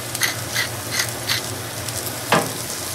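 Asparagus frying in a pan of oil and butter gives a steady, close sizzle, broken by a few soft scraping strokes as the pan is stirred, with no voices.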